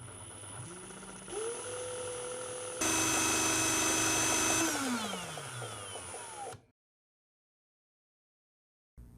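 Electric drill spins up and winds copper wire onto a homemade ukulele pickup bobbin, its motor pitch rising and sliding back down before cutting out to silence, loud and close with no talk.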